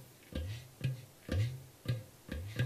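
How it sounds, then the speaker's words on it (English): Deep bass strokes on a ghatam clay pot, about six evenly spaced booming hits, each with a short sharp attack and a resonant low ring, played alone and fairly close. "you create the baya sound or the bass sound. Bass sound like this."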